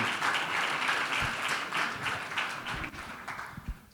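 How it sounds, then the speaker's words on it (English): An audience applauds steadily at the Film Conclave 2024 for actor Taha Shah Badussha, a dense wash of many hands clapping that runs the whole stretch and tapers slightly near the end. "I think that deserves a round of applause, by the way"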